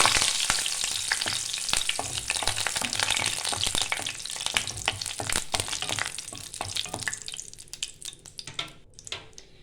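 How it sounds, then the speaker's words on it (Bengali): Two dried red chillies and a few curry leaves crackle and sizzle vigorously in hot oil, with sharp popping spits over a steady frying hiss that gradually thins out toward the end. "তেলটা গরম হয়ে গেছে, আমি 2টো শুকনো লঙ্কা দিচ্ছি আর একটু কারি পাতা দিচ্ছি।"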